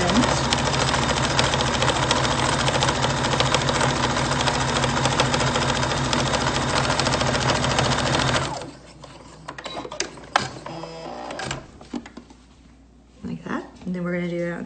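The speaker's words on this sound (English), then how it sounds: "we're going to just sew this in a straight line" A sewing machine stitches a straight seam down a fabric face mask, loud and close with a continuous rapid whir for several seconds before stopping. Afterward come clicks, fabric handling and a person speaking.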